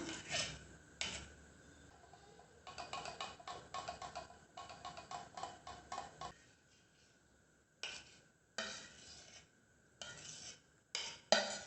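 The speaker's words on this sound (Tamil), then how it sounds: "கொஞ்சம் கொஞ்சமாக ஆட் பண்ணி நல்லா மிக்ஸ் பண்ணிக்கலாம்." Semolina is stirred into beaten egg in a bowl for rava pudding, giving a steady gritty scraping and rubbing in uneven bursts with short pauses, close and moderately quiet.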